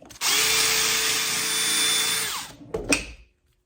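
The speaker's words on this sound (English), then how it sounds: "then just go back and forth on it with the drill" A power drill whirs steadily for a couple of seconds at close range while cleaning a Chrysler 440 engine piston, then winds down, followed by a short scraping clatter.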